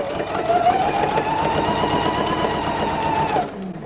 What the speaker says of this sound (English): I'll go ahead and just start sewing them with a 1/4 inch seam allowance.